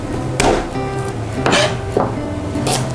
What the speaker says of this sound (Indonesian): Bawang putihnya aku pecah-pecahin aja dulu